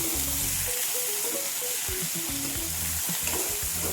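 Fresh curry leaves sauté in a pan for a chutney, giving a steady close sizzle with light stirring scrapes throughout and no voices.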